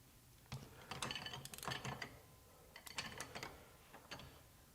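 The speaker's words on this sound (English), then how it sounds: "So the ratcheting mechanism, having no problem breaking 150 foot-pounds free." A Milwaukee flex head ratcheting wrench breaks a bolt free at 150 foot-pounds, making short bursts of close, crisp ratchet clicks in several separate strokes, quiet overall with no voices.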